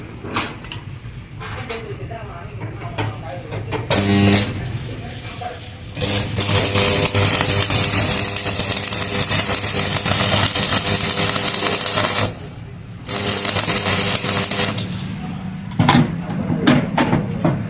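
Arc welding a layer bead, with a harsh continuous crackling hiss that stops briefly and restarts several times; someone talks between and over the runs.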